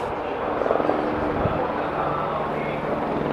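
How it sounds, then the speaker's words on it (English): A steady, broad engine roar of helicopters passing overhead at a motorcycle race circuit, loud and continuous, with some faint voices mixed in. "Helicopters coming over again, so I guess they're coming round."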